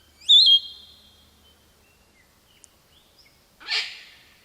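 A palm cockatoo gives two calls: a sharp, whistled rising note at the start, then after a near-silent pause a louder, harsher burst, both close and clear against a quiet background.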